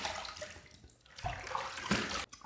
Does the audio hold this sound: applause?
no